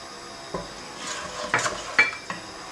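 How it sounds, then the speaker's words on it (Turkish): Tomato paste sauce being stirred in a pot with salt and black pepper added, a few distinct scraping and clinking strokes of a utensil against the pot over a faint background hiss, no talking. "Karıştırmaya devam ediyorum."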